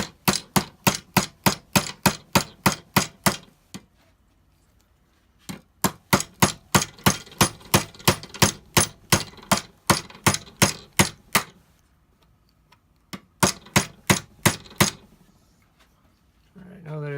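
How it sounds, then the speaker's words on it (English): Rapid bursts of sharp tapping from a nylon hammer striking a metal sight onto a Glock 34, several quick runs of strikes separated by short pauses, close and loud. "I have also a nylon hammer here so I can get the sight started"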